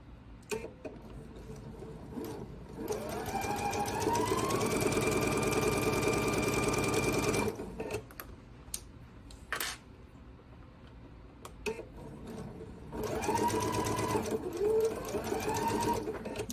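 A sewing machine stitches quilt block pieces in close, whirring bursts that rise and fall in speed, with pauses between runs filled by faint handling clicks and rustles.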